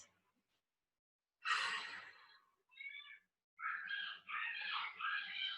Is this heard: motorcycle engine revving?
no